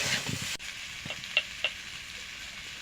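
Fried potatoes are stirred into spice paste in a pan, a faint continuous sizzle with a few soft spatula taps and scrapes, quiet and close with no voices.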